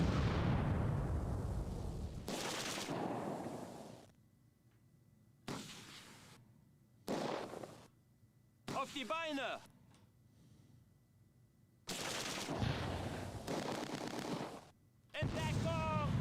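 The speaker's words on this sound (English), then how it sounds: "Are they shooting mortars at me up here?" Mortar fire in the WWII strategy game Close Combat 2: A Bridge Too Far, at Arnhem: a string of loud, blunt blasts and crackling gunfire come in separated bursts, with a voice talking between some of them.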